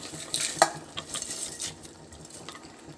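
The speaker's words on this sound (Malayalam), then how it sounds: "വറുത്ത് വെച്ച് തേങ്ങ ഇട്ടെടുത്തിട്ട് ഇളക്കാം" Roasted coconut being stirred into koottukari in a pan, soft scraping and light clinks of a spoon over a quiet simmering sizzle, close and low in level, no voices.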